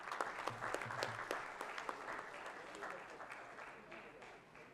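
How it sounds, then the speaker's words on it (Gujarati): Audience applause after a speech at a National Sports Day event, a dense steady patter of clapping from a crowd that fades gradually over a few seconds, with no talking over it. "જોરદાર તાળીઓ થવી જોઈએ એકવાર ફરી દક્ષેશભાઈ માટે."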